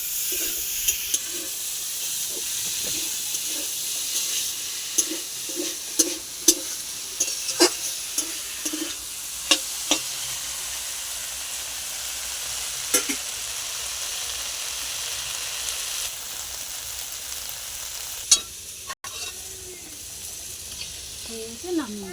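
Potato and green beans fry in a pan, a continuous soft sizzle broken by repeated scraping stirs of a spatula, close up over a long stretch.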